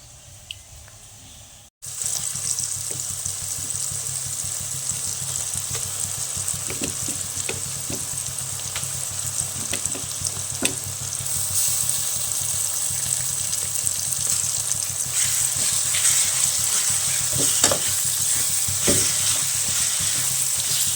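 Onions sautéing in a pan for Kerala-style prawn biryani, a steady close sizzle and fry with occasional stirring scrapes, continuous after a brief quieter start, with no talking.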